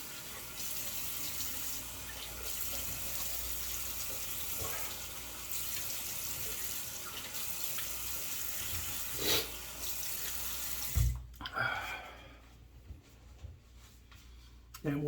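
Water runs steadily from a tap to rinse off an aluminum surface, a soft continuous hiss that stops abruptly near the end, followed by a few faint drips and clatters.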